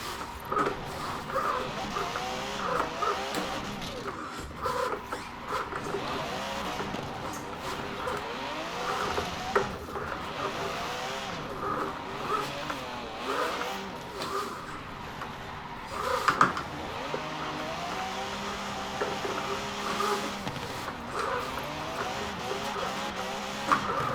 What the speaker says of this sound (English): try to hit this jump drift real quick